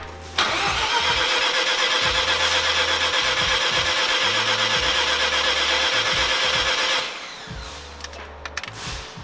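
A Mazda RX7 FC rotary engine is cranked by its starter in a long, steady whirring run of about six seconds, with low thuds running underneath. It then cuts off into quieter clunks and rattles.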